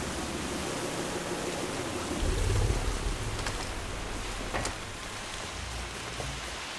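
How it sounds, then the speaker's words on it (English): Steady, dense rain in the video game Far Cry 2, a continuous broadband wash with a brief heavier rumble partway through. "It's very rainy!"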